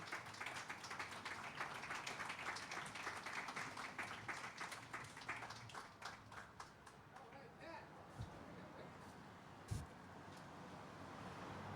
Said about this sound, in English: Another round of applause for Pat Konover